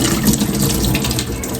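Tap water runs steadily into a sink while dal lentils are rinsed, a dense, constant splashing hiss throughout with no voices.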